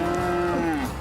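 A single cow on a farm moos in one long, steady, fairly loud low call that dips slightly in pitch at the end, heard alone.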